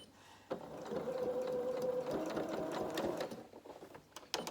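A domestic sewing machine running a reverse stitch on fabric, a close steady whirring hum lasting about three seconds, then a few light clicks as it stops.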